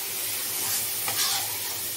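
Moong dal halwa fries in a pan as milk is stirred into it. A dense, even sizzle and hiss continue without a break, with a soft surge of bubbling midway.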